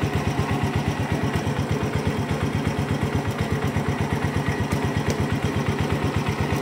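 A 2014 fuel-injected underbone motorcycle engine idles with a steady, even putter, close and fairly loud, the rhythm unchanged from start to finish.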